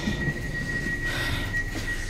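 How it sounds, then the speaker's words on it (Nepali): Steady low rumble and rattle of a moving train heard from inside a carriage in Germany, a continuous even drone with a faint high whine and no talking. "finally we are on the train"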